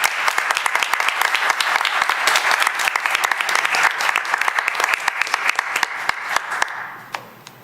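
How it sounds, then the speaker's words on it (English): Audience applause at a city council meeting honoring two people, dense crisp clapping from a room of attendees that holds steady for several seconds before thinning into a few last claps and fading out. "we're gonna applaud for you and thank you"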